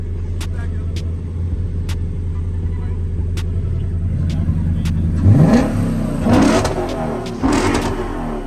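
Car engine revving hard at a car meet, a steady deep idle rumble that swells into two loud rising revs, close by, with people talking over it.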